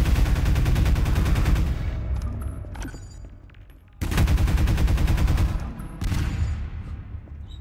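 Alternate-fire weapon blast in Half-Life 2, several loud, close booming bursts that cut in sharply and tail off, with no talking over them.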